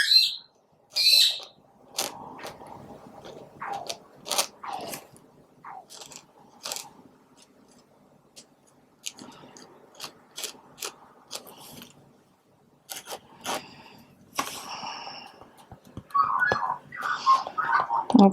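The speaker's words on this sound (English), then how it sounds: "So that warbly noise, that's the magpie. And that screechy noise is a bird, a little black and white bird called a peewee." Magpie warbling and a peewee, a small black and white bird, screeching outdoors in sporadic bursts of calls, some sharp and high, separated by quiet gaps, moderately near.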